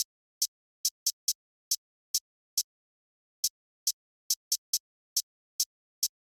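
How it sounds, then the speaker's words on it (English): A crisp drill beat hi-hat pattern of short bright ticks, some in quick rolling pairs and triplets with gaps between them, played alone and clean. "So anyways, the hi-hats are sounding like this."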